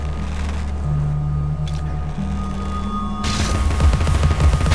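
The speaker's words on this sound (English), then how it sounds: "I have a machine gun that shoots pepper" Rapid gunfire from a pepper-shooting machine gun in the video game Alice: Madness Returns, a dense continuous burst that swells louder toward the end over a low background music drone.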